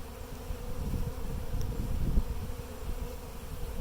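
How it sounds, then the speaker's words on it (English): Honeybees buzzing and fanning at the entrance of a newly installed Flow Hive: a dense, steady low drone of many wings, close and continuous, no voices. "There's 3 on the board fanning now, and all of these guys are responding in kind."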